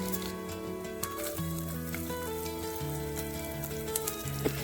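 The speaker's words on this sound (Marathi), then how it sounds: "आपण यामध्ये लसूण घालून छानपैकी परतून घ्यायचं आहे" Garlic and whole spices are sautéed in a pan for butter paneer, giving a faint, steady hiss with soft patter under a low background hum.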